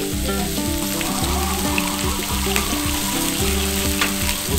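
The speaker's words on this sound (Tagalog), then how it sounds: "Luto ko na yung gyoza naman." Gyoza frying in a pan, a steady close sizzle with a crackling, bubbling texture that carries on evenly throughout, no voices.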